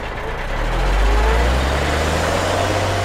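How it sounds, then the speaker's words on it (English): A repaired truck with an automatic transmission pulls away, its heavy low engine drone swelling as it accelerates, loud and steady with no talk over it. "that's the truck driving away from you"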